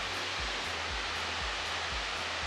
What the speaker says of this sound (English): That waterfall is absolutely going off